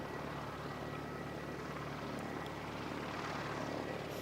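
A Jetstar airliner arriving from Auckland, heard from an airport viewing area in strong winds as a steady, broad engine roar and rushing wind noise that holds at an even level throughout.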